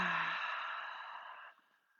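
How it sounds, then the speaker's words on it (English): One long audible breath out through the mouth in a beginner's yoga session, close and soft, fading gradually over about two seconds into silence. "Big inhale through the nose. Exhale out the mouth."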